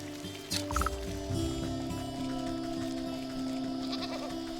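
A goat bleats in the video game Wytchwood, a short bleat followed by a steady bed of game music and ambience with no talking.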